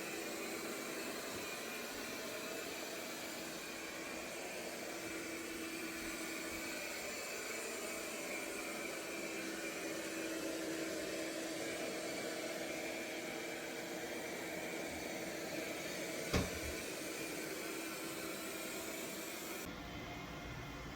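Robot vacuum cleaner with LiDAR running across carpet and hardwood floors in a house, a steady low whirring drone throughout with one brief sharp knock near the end.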